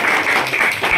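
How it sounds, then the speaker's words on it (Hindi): A brief burst of audience clapping at a wedding anniversary celebration during a religious gathering, a steady close patter of many hands lasting about a second. "थोड़ा ताली बजा भाई"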